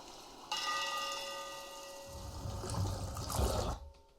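A struck bell rings out with a long sustained tone in a spatial sound art piece, then running, splashing water swells in beneath the fading resonance before cutting off abruptly.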